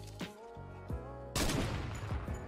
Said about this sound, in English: I no scoped them with the AKK.